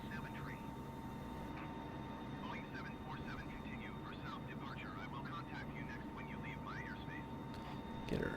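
A Boeing 747 in Microsoft Flight Simulator 2020 drones at full throttle, a soft, steady jet roar with a constant tonal whine beneath someone talking.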